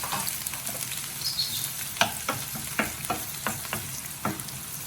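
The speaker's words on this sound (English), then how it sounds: "And fry it in the oil." Half an onion and about five cloves of sliced garlic fry in oil, a steady close sizzle broken by sharp clicks and scrapes of a utensil stirring the pan at irregular intervals.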